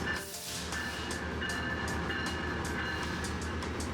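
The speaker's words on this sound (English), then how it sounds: "the 8-car set comprising of Amtrak Superliners arrives from the sidings" An eight-car Amtrak Superliner passenger train rolls in steadily from the sidings at Los Angeles with a low rumble, wheel noise and brief squealing tones, close by and continuous.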